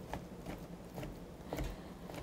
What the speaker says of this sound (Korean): 반대 방향으로 돌린 후 잘게 썰도록 하겠습니다.